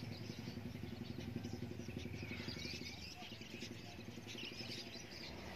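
Canaries and other caged birds chirp in a busy bird shop, dense overlapping tweets sitting under a steady hum of background noise and low clatter, with faint talk mixed in.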